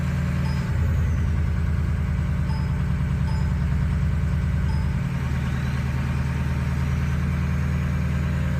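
A 2004 Ford Powerstroke diesel engine runs steadily up close with a heavy low rumble and a brief rise in engine note as the turbo is exercised, loud and continuous throughout.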